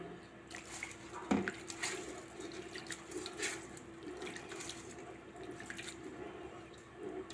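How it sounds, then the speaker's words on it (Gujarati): Soaked lentils are rubbed by hand in water to loosen their skins, a continuous close sloshing and swishing with one sharper splash early on and no talking. "હવે આ રીતે આપણે હાથથી મસળીને ધોઈ લેશું, તો આપણા બધા ફોતરા અલગ થઈ જાય છે"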